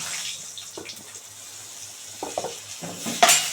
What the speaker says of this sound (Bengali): এবারে আলুটা দিয়ে দেবো আলুগুলো একদম ভালো করে লাল করে ভেজে নেব